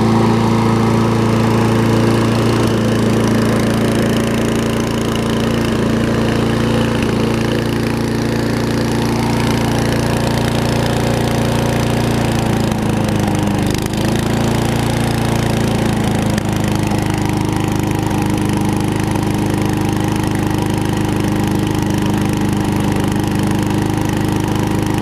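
An old Murray bagging lawn mower with a Tecumseh engine, throttle cable removed, runs steadily and loudly throughout, a constant droning engine note with no break and no talking.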